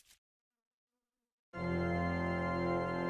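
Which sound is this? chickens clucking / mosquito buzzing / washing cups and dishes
mosquito buzzing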